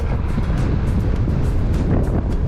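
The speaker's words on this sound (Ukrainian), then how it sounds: "Вітер просто капець, здуває, я б сказав." Strong wind buffets the microphone in a constant, loud roar with gusty surges throughout.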